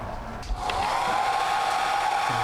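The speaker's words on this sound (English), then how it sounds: "The hair dryer is your best friend" A hair dryer blows with a steady whooshing hum and a faint whine, after a brief click as it switches up to full power.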